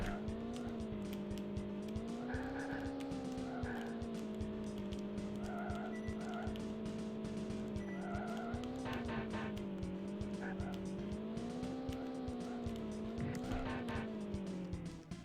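Race cars in the SNES video game Street Racer: a continuous synthesized engine whine that rises and falls in pitch, with bursts of tire screeching layered on top, loud and steady throughout.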